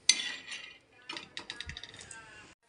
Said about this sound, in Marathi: तर पहिले मी शेंगदाणे भाजून घेते मस्तपैकी